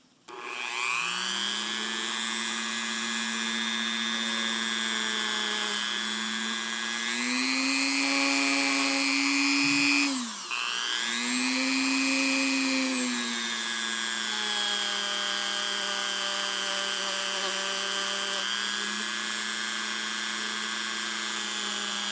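A Dremel rotary tool with a polishing pad buffs gold jewelry to a mirror finish, giving a loud, continuous high-pitched whine that briefly dips and rises in speed midway before settling back to a steady drone.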